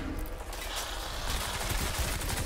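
Rapid bursts of automatic gunfire in the first-person shooter Crysis 2, a dense rattling fusillade at moderate level that grows heavier in the second half.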